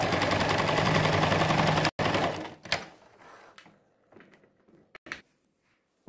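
A sewing machine stitches a zipper in a fast, close, continuous mechanical run for about two seconds, then stops, followed by scattered clicks and handling noises as the fabric is adjusted.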